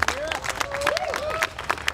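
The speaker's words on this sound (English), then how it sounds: "Another round of applause for them." Audience applause after a band's song at a music society concert, dense clapping with crowd murmur and voices over it, steady through the short stretch.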